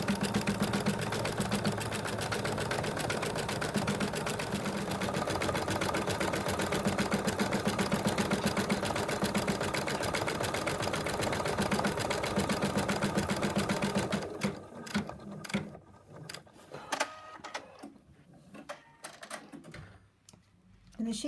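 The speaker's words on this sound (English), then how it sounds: "The machine now is going to stitch out the outline onto the fabric." An embroidery machine stitches a frog design's outline onto hooped fabric with a fast, even, rattling hum for about fourteen seconds, then stops, followed by scattered clicks and handling sounds as someone talks.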